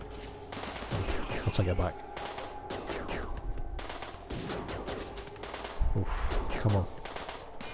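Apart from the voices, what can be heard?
turret and gunfire in video game Rimworld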